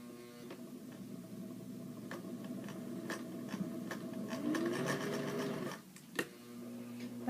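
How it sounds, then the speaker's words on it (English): A Singer sewing machine runs a straight stitch on a clothing repair, its steady motor hum and rapid needle chatter continuing for several seconds, with a brief pause near the end before it starts again. "So I just switched to my Sturdy Singer. It just does a straight stitch, so hopefully I won't run into any problems with this machine."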